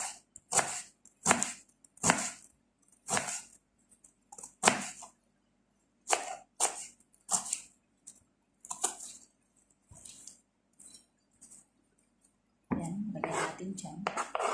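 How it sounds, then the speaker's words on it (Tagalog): A knife chops an onion on a board in a home kitchen, producing a series of crisp, close, irregular knocks with short gaps between them, followed by a stretch of a person talking at the end. "So, chop-chop lang natin yung onion."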